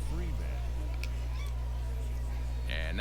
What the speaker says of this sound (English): Very loud cat.